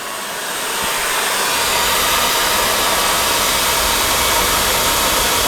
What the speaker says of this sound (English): there it goes, sucking all that gunk right up and into our dustbin right down here